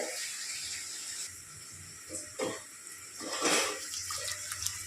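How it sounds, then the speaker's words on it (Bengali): Water poured over raw rice in a vessel to soak it for mutton biryani: a steady close splashing and running-water wash lasting several seconds, swelling louder in short surges toward the end. "চালের মধ্যে আমি পরিমাণ মতো জল দিয়ে দিচ্ছি। চালটাকে ডুবো জলে ভিজিয়ে রেখে দেব।"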